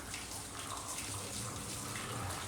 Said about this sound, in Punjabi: ਕੱਪੜੇ ਮਸ਼ੀਨ ਲਾਤੀ ਕੱਪੜੇ ਧੋ ਰਹੇ ਆ